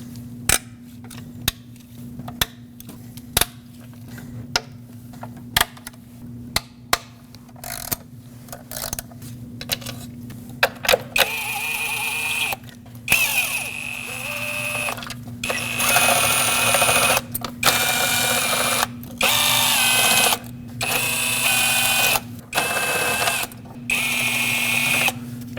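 Nuts and 5mm Allen bolts on a 2006-2015 Lexus IS250 intake manifold being broken loose, a long run of rapid ratcheting clicks in bursts, close and fairly loud, over a steady low hum.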